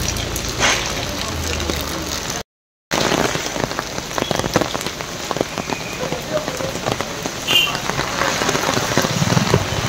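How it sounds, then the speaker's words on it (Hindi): Steady rain patters on a hard surface in Mount Abu, Rajasthan, a dense close hiss with scattered drops, briefly cutting out early on. "तो ये फिर से बारिश स्टार्ट हो गई।"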